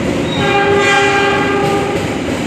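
A train at Manggarai railway station sounds a loud, sustained multi-tone horn over steady rumbling wheels and rail noise, close by and continuous throughout.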